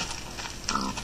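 A pig oinks in Minecraft: one brief, close grunt over steady clicking that sounds like keyboard typing.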